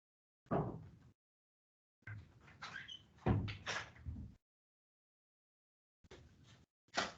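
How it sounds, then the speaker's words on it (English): An office door is handled and pushed shut, with several sliding, scraping and knocking bursts followed by a brief thump, fairly close and quiet with pauses between. "I just want to close my door."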